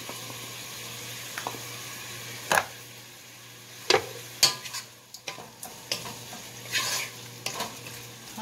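Vegetables and pork belly fry in a pan for ginisang gulay, with a steady soft sizzle under repeated scraping and clacking strokes of a spatula stirring against the metal, close up and with no talking.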